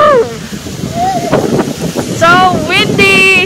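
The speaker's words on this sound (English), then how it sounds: "So windy!" Strong wind buffets the microphone in a steady low rumble, with voices calling out over it.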